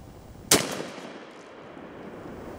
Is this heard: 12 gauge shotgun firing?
yes